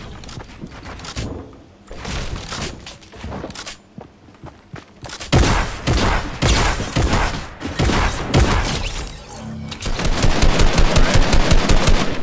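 Gunfire in the Fortnite video game, loud and close, with rapid repeated shots in bursts and sustained automatic fire, building to a dense continuous rattle toward the end.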